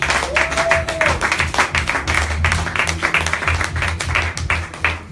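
A church congregation claps loudly and continuously, a dense ragged applause, with voices mixed in underneath.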